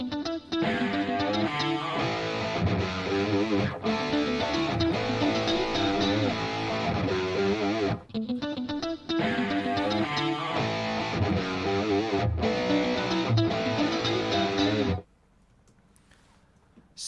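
Funky line and main guitar parts layered together in a full, distorted band mix, playing steadily for about fifteen seconds with two brief dropouts before cutting to near silence at the end.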